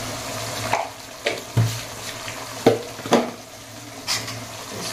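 Rajma masala with coriander powder being stirred in oil in a pan, soft steady sizzle broken by several sharp spoon knocks and scrapes at irregular intervals, no talking.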